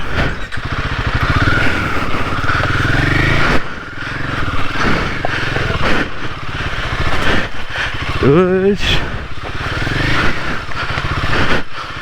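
A Royal Enfield Himalayan 450 motorcycle rides off-road near waterfalls, its engine droning loudly and steadily close by, with a brief dip and a short surge in revs partway through.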